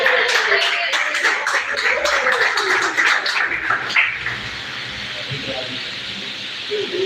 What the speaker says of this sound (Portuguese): a igreja se coloca em pé para nós recebermos o pastor Antônio com as palmas para Jesus